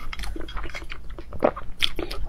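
Crunchy biting and wet chewing of a boiled egg, close and fairly loud, in a run of irregular bites and mouth sounds over about two seconds, with no talk.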